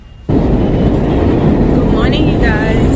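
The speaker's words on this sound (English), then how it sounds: "My train is coming" A train pulls into a station with a sudden loud, steady rumble and roar. Faint metallic squeals rise over the din midway through.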